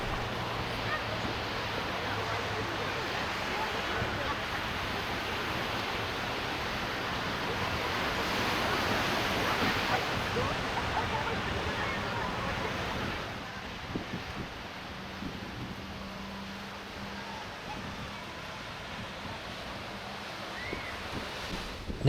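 Waves break on Karon beach in Phuket, Thailand, as a continuous distant surf roar that swells and then eases slightly, with faint background sounds.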